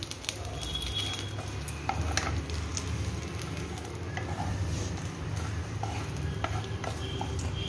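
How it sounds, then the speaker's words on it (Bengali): Two dried red chillies fry in mustard oil in a pan, a steady sizzle with occasional light crackles and pops, continuous and close, without talking. "তেলটা গরম হতে হতে দুটো শুকনো লঙ্কা দিয়ে দিয়েছি"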